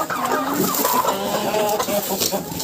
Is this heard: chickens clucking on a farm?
yes